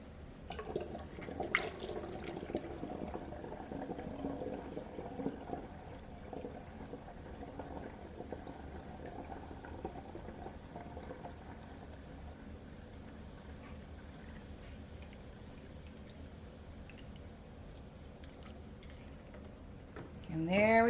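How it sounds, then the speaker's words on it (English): Water is poured through a funnel into a jug for a home mead-making kit, a steady, continuous trickling rush that runs unbroken for the whole stretch. "we're gonna fill it up to right about here with the rest of our water"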